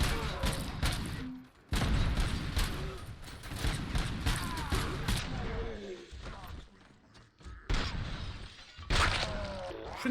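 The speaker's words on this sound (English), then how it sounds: "Oh, grenade." Grenade explosion in the video game Robocop: Rogue City: loud bursts of blasts, crashing debris and gunfire fill the scene with dense, chaotic noise, while someone talks over the action.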